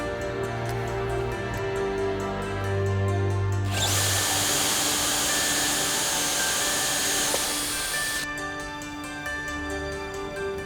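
A power drill with a core bit whines steadily, then bores into wood with a rougher, louder grinding for several seconds before dropping back to its smooth motor whine.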